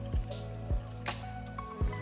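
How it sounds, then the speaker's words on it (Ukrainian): A whisk stirs dry mix into hot cream and milk in a pot for vanilla flan, giving soft wet squelching strokes at an uneven rhythm, close up with no talking. "ми ось так дощиком всипаємо нашу суху суміш і постійно помішуємо вінчиком"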